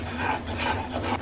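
A spoon stirs a powdered milk mixture in a pan with a continuous scraping, rubbing rasp. The strokes swell in a loose rhythm, close and steady, with no talking.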